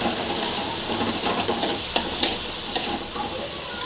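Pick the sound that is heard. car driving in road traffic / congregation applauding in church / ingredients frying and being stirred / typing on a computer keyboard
ingredients frying and being stirred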